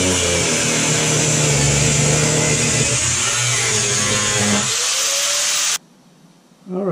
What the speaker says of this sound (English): the angle grinder is the fast way